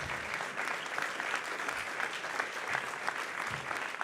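Steady applause from an audience at a political speech launching a Paris youth movement, dense clapping held at an even level throughout without voices over it.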